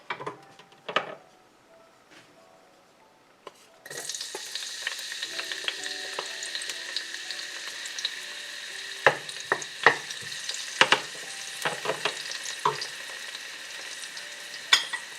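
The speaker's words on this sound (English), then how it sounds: "Put the garlic. And then the onions." Garlic and onions hit warm oil for pinakbet, giving a sudden, steady sizzle that continues throughout, with scattered scraping and clinking as the pan is stirred.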